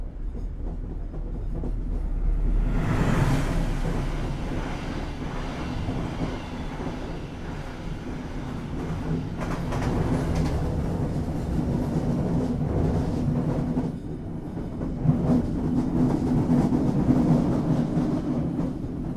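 Heard from inside, the Kutojaya Selatan train runs fast on its rails with a steady rumbling roar and rhythmic wheel clatter, the noise swelling at times, with no voices.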